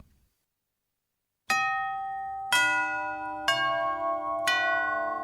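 A doorbell chimes four times, bright ringing tones struck about a second apart, each note sustaining and overlapping the next, after a quiet opening.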